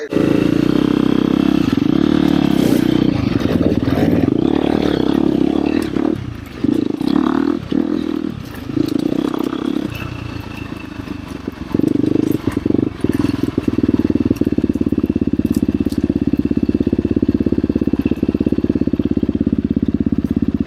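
Several ATV engines drone loudly on a trail at Mountain Ridge ATV Park, revving and dipping as the machines move, with rattling clatter throughout.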